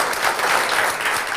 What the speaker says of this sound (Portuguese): Uma salva de palmas para o André.